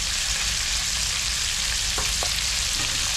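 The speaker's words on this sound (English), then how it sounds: "let that butter fall down to the side of the pan" Butter sizzles steadily in a hot frying pan, a dense continuous crackling hiss close up, with a couple of faint soft taps partway through.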